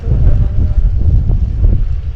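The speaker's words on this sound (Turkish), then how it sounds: "Bayağı bir rüzgar da var." Strong wind buffets the microphone in loud, low rumbling gusts, with an uneven pulsing roar and no voices.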